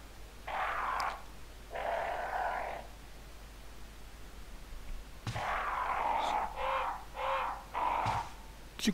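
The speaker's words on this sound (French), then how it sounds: "Oula des corbeaux! J'aime pas ça." Crows cawing in the video game Resident Evil HD: a few harsh, drawn-out caws in separate bursts, a pause, then a quicker cluster of calls, fairly clear over a quiet background.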